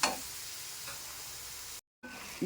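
Sliced mushrooms and onions sizzle softly in a pan while being stirred for a mushroom biryani, a faint steady crackle with light scraping ticks and a brief dropout near the end.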